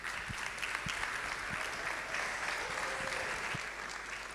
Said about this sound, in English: Can we keep clapping for her?